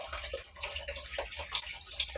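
Water splashes and trickles steadily while being changed in a plastic drum that holds pet fish, with small bright drips and splashes standing out over a continuous low wash.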